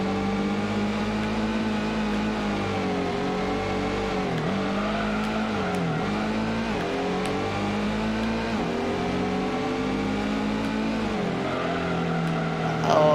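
Synthesized car engine from the Gran Turismo 1 video game, a steady droning whine that rises and falls in pitch with gear shifts and throttle changes, with a faint voice talking underneath.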